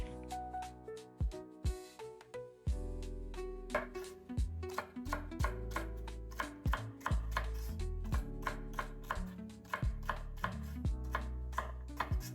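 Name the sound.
knife chopping vegetables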